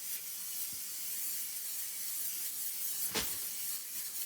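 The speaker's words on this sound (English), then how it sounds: "And hopefully you guys heard the spray." A continuous aerosol fixative spray hisses close by for several seconds, with one brief sharper puff near the end.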